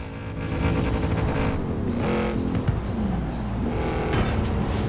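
A car engine in the racing game Forza Horizon 4 roars and revs continuously, pitch climbing and dropping with gear changes, loud and close.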